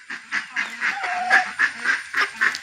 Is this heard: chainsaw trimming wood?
no